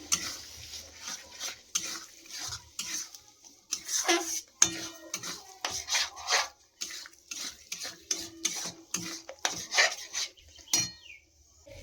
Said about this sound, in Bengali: এখন আমি নেড়ে নিচ্ছি